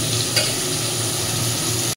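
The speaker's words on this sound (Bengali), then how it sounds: "চলো মাছটা ভাজা করে নিই।" Fish frying in a hot pan, a loud, continuous close-up sizzle with a brief stirring scrape near the start and no speech.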